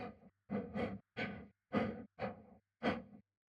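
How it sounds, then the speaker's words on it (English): Sampled video game character breathing, alternating inhales and exhales in a steady sequence of seven close, clear breaths with short silent gaps between them. "I use a sequence container to play samples of breathing in and out after each other."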